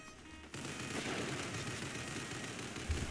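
Rapid automatic fire from the Modelo 13 SMG in a video game, a dense continuous rattle of shots that starts abruptly after a quieter moment and holds steady to the end, with a heavier burst at the close.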